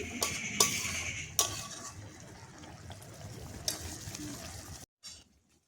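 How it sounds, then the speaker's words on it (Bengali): Bombay duck fish curry with eggplant being gently turned in a pan, soft scraping and wet stirring with a few sharp utensil clinks against the pot, then near silence at the end. "আস্তে আস্তে আমি নেড়ে দিচ্ছি যেহেতু আজকে একটু গোটা গোটা রাখবো এই জন্য আস্তে আলতো হাতে নেড়ে দিচ্ছি"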